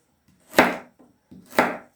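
Two firm knife chops hit a cutting board close by as beetroot is cut for pickling, each one followed by a softer slice, with a short pause between them.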